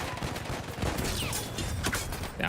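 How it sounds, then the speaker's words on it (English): Dense submachine-gun fire in Battlefield 1 roars close and loud without a break, rapid overlapping shots stacked into one continuous rattling barrage for the whole stretch. "If you shoot it till it's empty."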